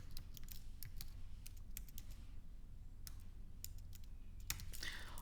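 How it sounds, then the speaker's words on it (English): Rapid typing on a computer keyboard, irregular bursts of light clacky keystrokes with short pauses, close and fairly quiet, no voices. "I'm just going to type in my website address"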